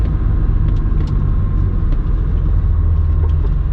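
An Acura NSX engine runs steadily while the car is driven, a continuous low rumble and drone heard from inside, loud and even with no voices.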